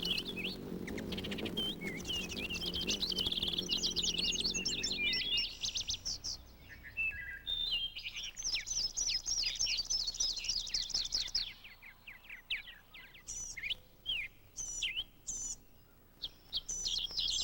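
Songbirds singing, bright rapid chirps and trills in overlapping bursts, fairly faint, with a low murmur beneath the first few seconds and no clear talk.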